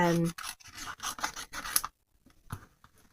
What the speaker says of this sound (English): So just open the scissors as wide as possible, and as you squeeze the blades together, twist